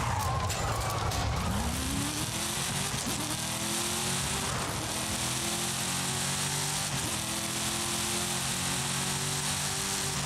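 A drift car in the racing game Forza Horizon 5 slides with sustained, loud tire squeal over a roaring engine, the pitch sweeping and shifting as it skids continuously.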